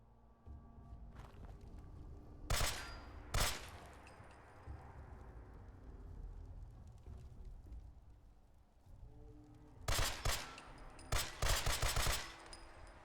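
Video game gunfire comes in sharp, loud bursts: a couple of single heavy shots early, then a rapid cluster of automatic fire near the end, over a low rumbling background with no talking.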